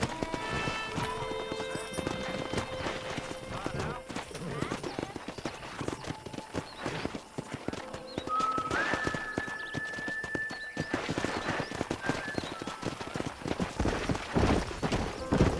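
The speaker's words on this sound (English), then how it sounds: "Let's see if we can't wrangle some horses." Rapid, rhythmic hoof clip-clops of several horses trotting in Red Dead Redemption 2, with occasional whinnies and neighs rising over the busy clatter; voices murmur underneath.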